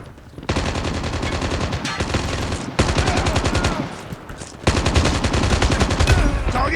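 Rapid automatic gunfire from the Call of Duty Mobile video game rattles in loud sustained bursts, separated by brief pauses.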